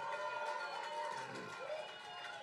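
A comedy club audience at a Diss-Or-Daps show cheers and applauds for Spirit Togs, a continuous wash of clapping and whoops under light chatter, steady and moderately distant.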